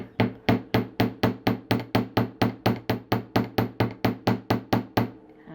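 Steady, rapid metal hammer taps on jewelry wire, about four per second, loud and close, continuing evenly before stopping.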